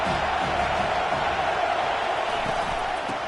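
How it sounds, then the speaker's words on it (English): A steady, dense crowd roar fills a college football video game stadium on a third down, continuous and loud from start to finish, with a voice faintly mixed underneath. "3rd down, and this crowd is tearing the lid off this place"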